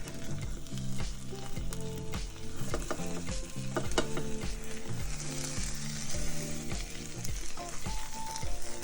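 A shrimp omelette with cheese fries in a pan, a steady close sizzle throughout, broken by rhythmic clinks and scrapes of a utensil, repeated roughly twice per second.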